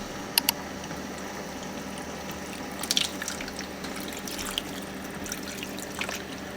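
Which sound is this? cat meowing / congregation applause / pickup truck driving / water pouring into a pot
water pouring into a pot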